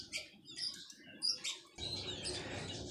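Canary chirps and tweets come in quick bursts of bright, high calls, then give way to a fuller, busier stretch of song over a soft patter of background rustle.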